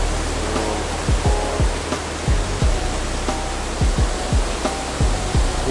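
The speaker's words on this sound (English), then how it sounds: "The river behind us is the Zigzag River. And the Zigzag River flows down off of Mount Hood." Zigzag River rushing down off Mount Hood, a steady broadband roar of fast water close by, constant and unbroken with a few low thumps, no voices.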